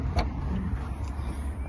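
Steady low engine rumble from a black 2015 BMW M235i 3.0 automatic with a dual exit exhaust, heard idling close up at the rear of the car, with no talk over it.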